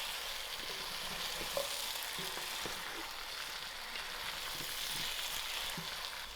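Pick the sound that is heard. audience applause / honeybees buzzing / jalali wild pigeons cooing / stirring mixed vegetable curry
stirring mixed vegetable curry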